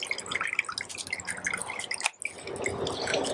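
Water draining and dripping from a freshly soaked beginner bonsai pot, a close, irregular patter of drops and trickles with a brief pause midway before the dripping resumes.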